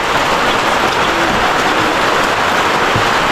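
Heavy rain pours down outside a home during a shared breakfast gathering, a loud, dense, unbroken hiss of drops that fills the whole moment with no talking.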